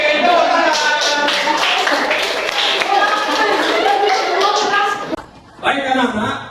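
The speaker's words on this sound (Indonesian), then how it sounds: "Oke, tepuk tangan." Schoolchildren in a classroom clapping their hands in a lively, rhythmic pattern that runs steadily for several seconds, mixed with children's voices and chuckles, then pausing briefly before a short final burst.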